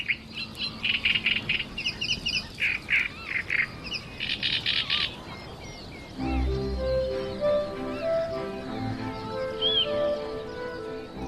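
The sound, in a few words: reed bed birds calling, reed warblers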